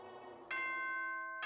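A ding-dong chime from the video game Danganronpa 2: Goodbye Despair, two bright ringing tones with sustained resonance that ends abruptly as the second strike begins, heard over a faint background hum.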